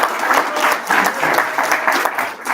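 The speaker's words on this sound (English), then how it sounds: "A round of applause." Town hall audience applauding steadily throughout, a dense, continuous round of clapping from a crowd indoors at a community event on fentanyl.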